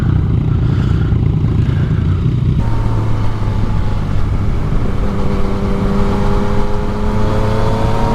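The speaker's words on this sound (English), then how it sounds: "Wait for these cars to pass." Several cars pass close by on a road at a motorcycle owners' ride meet, a loud steady traffic roar with rising and falling engine tones as each vehicle goes past, no talking.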